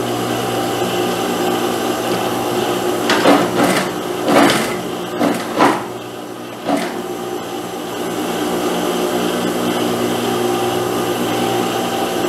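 A sewing machine topstitches a dress seam, running as a steady mechanical whir with a cluster of short, louder bursts in the middle before settling back into the even hum.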